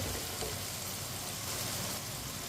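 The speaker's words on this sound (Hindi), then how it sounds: "आलू डाल के 2-3 मिनट के लिए पका लेंगे, ऐसे ही चम्मच चलाते हुए।" Potato pieces fry for aloo pulao with tomato and green chilli, giving a steady close sizzle and crackle as a spoon stirs them in the pan, with no one speaking.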